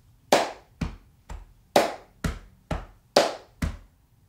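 Hand claps beat out a bass rhythm grouped as three, three and two, eight sharp, close claps in an even pattern with slightly louder accents on each group's first beat, no voices.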